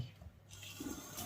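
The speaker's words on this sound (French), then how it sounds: "On va bien rincer pour pas qu'il y ait de dépôt de savon." A Dyson V12 Fluffy brush is rinsed under a running tap, a faint, brief wash of splashing water.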